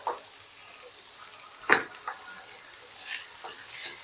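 Cauliflower and mixed vegetables being stirred in a frying pan, a soft continuous sizzle with a few scraping stir strokes, moderately close, no talk.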